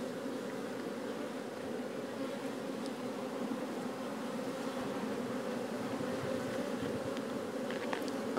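Steady, dense buzzing of many honey bees working a hive frame, a continuous low drone close by with no voices.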